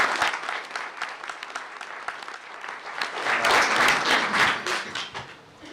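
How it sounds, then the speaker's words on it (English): At a school board meeting, an audience applauds a student award winner with a round of clapping that starts moderate, swells louder midway, then fades out. "Let's give Adam a round of applause."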